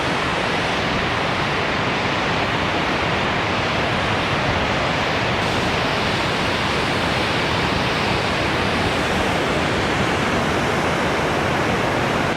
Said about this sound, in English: And then I can hear first waterfall down here for shizzle.